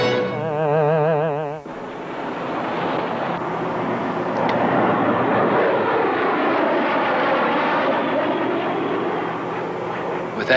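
A jet aircraft roars overhead in a radio drama: a steady, loud, broad engine rush with a sweeping pitch, holding for about ten seconds after a short warbling electronic tone at the start. No voices.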